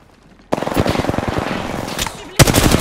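Rapid bursts of enemy gunfire in a shooter video game, loud and close, rattling in quick repeated volleys, with a sharp fresh burst near the end.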